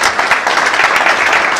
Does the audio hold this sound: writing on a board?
no